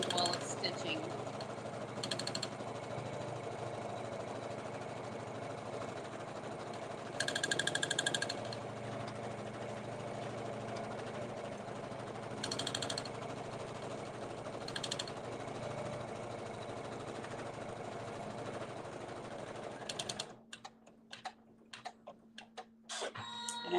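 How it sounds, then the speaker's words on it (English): A sewing machine runs steadily while stitching down appliqué fabric, a continuous close mechanical whir with brief louder bursts, then stops near the end, leaving quiet room tone and soft clicks. "I'm just going to make sure that the fabric stays smooth while it's stitching."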